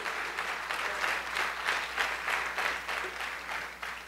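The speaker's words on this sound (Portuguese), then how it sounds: "Você pode aplaudir mais uma vez o nome de Jesus" A church congregation at an OBPC church anniversary celebration in Salto applauding, a dense, continuous wash of clapping with a pulsing, almost rhythmic swell throughout and no voices over it.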